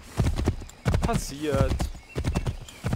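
Horse hooves clip-clopping at a slow walk in Assassin's Creed III, rhythmic clusters of hoofbeats on a path with a horse's snort, while someone speaks German over them.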